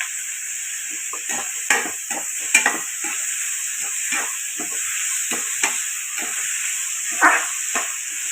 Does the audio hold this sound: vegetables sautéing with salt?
yes